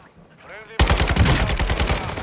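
Loud, close automatic gunfire in Call of Duty: Modern Warfare II breaks out suddenly after a brief quiet moment, with rapid rattling bursts that keep going to the end.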